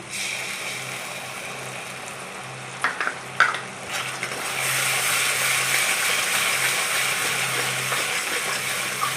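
Yogurt and sugar stir-frying with spice masala for a yogurt fish curry with catla, steady sizzling with a few sharp clinks of a spatula, then a louder, fuller frying hiss.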